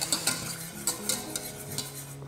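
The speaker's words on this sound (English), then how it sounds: "quite aggressive, as you can hear, and whisk that until it's completely smooth" A whisk beating gravy in a pot until smooth, quick scraping strokes clicking against the metal in a steady, vigorous rhythm, close and moderately loud with no talking.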